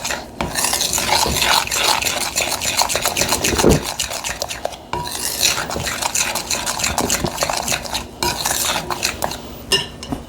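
A utensil stirs a thick peanut butter buckeye mixture in a bowl, giving continuous scraping and rubbing strokes close up, with brief pauses between bursts of stirring.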